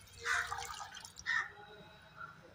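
Chickpeas being rinsed in water for a chana garlic dish, with a couple of soft splashing, swishing bursts and faint dripping in a quiet kitchen.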